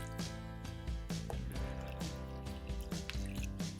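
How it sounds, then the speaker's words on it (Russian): Water is poured into a pot holding a kilogram of raw pork ribs, giving a steady close splashing and gurgling fill with small drips, heard alone. "Все заливаем водой."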